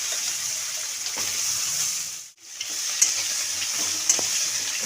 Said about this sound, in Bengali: আমি এই কড়াইতে আমি বেগুনগুলো ভাজতে দিলাম